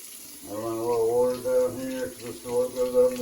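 Tap water running to rinse a Navage nasal care device, a steady splashing flow with a harmonic ringing tone, close and moderately loud.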